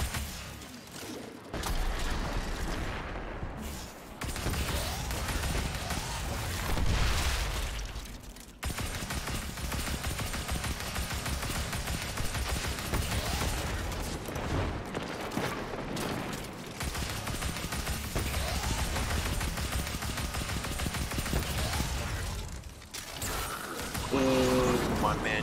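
Video game gunfire from a Hollowed Lair Grandmaster run crackles in repeated bursts and mechanical clatter throughout, sitting under players chatting over voice comms.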